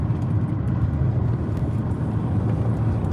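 Steady, even rumble of a car driving along roads in England, heard from inside the cabin, with a continuous low engine and road drone and no talking.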